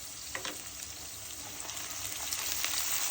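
Chopped onions with salt and sliced green chilies frying in hot oil for a fish bhuna, a quiet steady sizzle with occasional light clinks of stirring, growing slightly louder.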